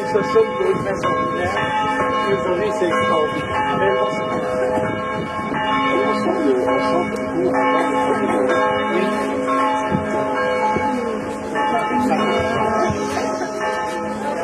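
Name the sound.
church bells ringing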